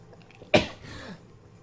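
A single sharp sneeze bursts out close to a podcast microphone, a sudden loud blast that trails off into a brief breathy tail against a quiet room.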